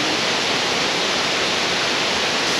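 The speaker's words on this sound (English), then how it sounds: "Definitely one of my favourite waterfalls." A Far North Queensland waterfall roars as a steady, dense wash of falling water, close and loud and unbroken, with no voices over it.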